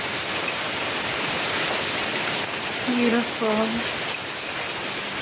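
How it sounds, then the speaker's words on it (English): Pouring rain makes a steady, dense hiss that fills the whole scene, with a person speaking briefly over it. "It's like pouring rain right now"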